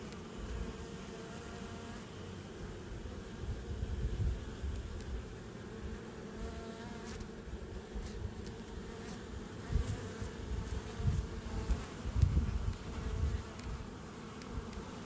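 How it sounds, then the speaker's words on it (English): Honey bees buzzing steadily at a hive entrance where workers drag out and drop dead bees, a dense, continuous close-up drone with swells of louder buzzing as individual bees pass near. "This is another case where you can see bees taking care of other bees."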